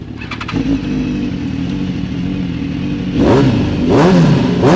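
Two sport motorcycles, a BMW S1000RR and a Kawasaki Z1000 with modified exhausts, idle loudly and close by before both rev up sharply together in two rising bursts.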